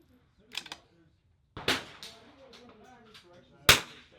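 Rifle shots at an NRL22 match ring out as sharp, loud cracks, three separated bursts with a steel-target ping, while people talk quietly between them at an outdoor range.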